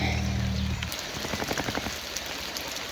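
Steady rain falls outdoors near a balcony, a continuous close patter of drops on surfaces after a low rumble fades at the start.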